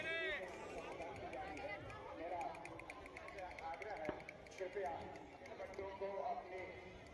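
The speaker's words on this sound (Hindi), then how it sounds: "देख सकते हो कितनी भीड़ लगी पड़ी है, कपड़ों की सेल है" A dense crowd of shoppers mills around a clothing sale, a steady murmur of many overlapping voices and footsteps with occasional nearer calls, continuous throughout.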